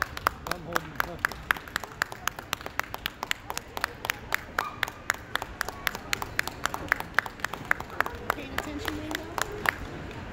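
A small group claps steadily and quickly for about ten seconds, sharp close claps in a fairly even rhythm, with a few faint voices underneath.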